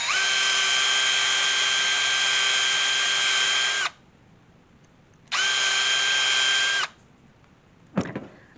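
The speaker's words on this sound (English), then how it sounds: "I'm going to go down a little bit to drill the hole" A power drill bores a hole in a Christmas tree beanie mold in two steady high-pitched whirring bursts, the first about four seconds and the second shorter, separated by quiet, with a brief clatter after.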